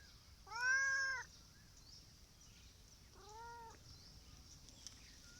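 A cat in a backyard garden meows twice: a clear, drawn-out cry, then a softer, shorter one a couple of seconds later, with quiet outdoor background between them.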